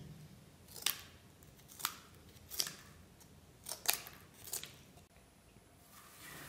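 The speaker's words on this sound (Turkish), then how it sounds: "Şimdi amacım bunları makasımla kesip çok ufak" Scissors snip thin strips of waste paper into tiny pieces for handmade recycled paper, about seven crisp, close cuts at an uneven pace with quiet pauses between.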